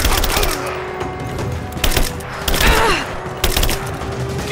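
Gunfire in a Rise of the Tomb Raider battle: a steady stream of loud, sharp shots with several heavier thumping bursts over a continuous combat din.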